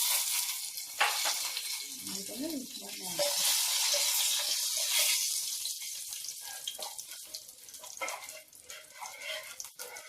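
Mustard seeds pop and sizzle in hot oil with sugar added for tekeli pitha, giving a dense close crackle that swells and fades with scattered sharper pops.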